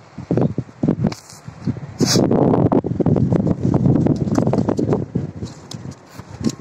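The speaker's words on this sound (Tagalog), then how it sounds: "Lakas ang hangin guys oh." Strong wind gusts buffet the microphone with a loud, rumbling roar that swells and fades, building into a sustained blast in the middle.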